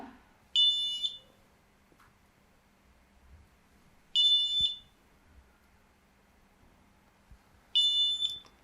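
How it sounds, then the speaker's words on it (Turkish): A high electronic buzzer triggered by a motion sensor on a Pinoo Studio kit sounds three times, each short burst about half a second long and spaced several seconds apart, with near-silence between. "Sensörüm hareket aldı, algıladığında buzzer'dan ses çıkışı alarak"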